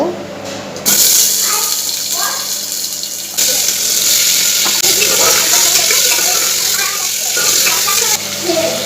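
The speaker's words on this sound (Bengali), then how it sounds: "এখানে মাংসটা কষাচ্ছি" Meat being sautéed in a home kitchen pan for a toddler's meal, a loud steady sizzle throughout with someone talking over it.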